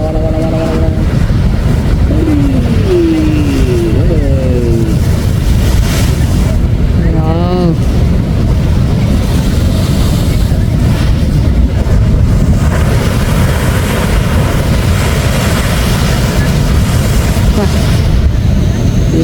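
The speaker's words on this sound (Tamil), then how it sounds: "எப்படி வந்து அடிக்குது அலை" Ocean waves roar and crash against the rocks at Marneef Cave near Mughsail Beach, Salalah, Oman, during the khareef season. The surf forms a loud, unbroken wash mixed with wind buffeting, and voices are heard briefly at the start.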